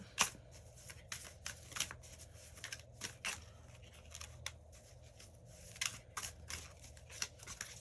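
Miss Cleo tarot cards are shuffled by hand up close, with quick papery riffles and slaps that come in irregular bursts against a quiet background.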